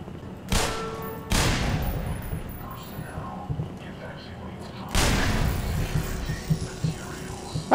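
Several loud gunshot bursts from the video game Black Mesa ring out, separated by pauses, over a low rumbling background with some faint voices.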